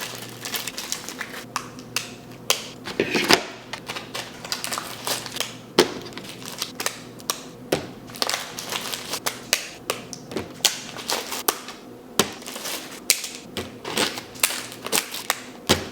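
Small plastic baskets being unwrapped and snapped together in a new apartment: continuous crinkling of wrapping with frequent sharp plastic clicks and taps, close and busy throughout with no talking.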